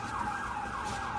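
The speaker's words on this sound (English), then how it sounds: "Sorry, sirens, because I'm in New York City and this is live." A siren wails in the distance in New York City, a steady high tone rising and falling faintly over low traffic noise.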